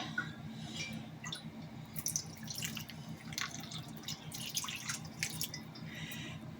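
Water being added to goulash during cooking, heard as scattered light drips and a brief trickle over a steady low kitchen hum, close and fairly quiet.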